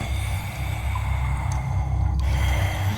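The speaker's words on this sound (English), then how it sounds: "It's like some freaky breathing or something." Eerie creature breathing in an audio drama, a steady, heavy, drawn-out rasp held for about three seconds with a hollow low rumble beneath and no voices over it.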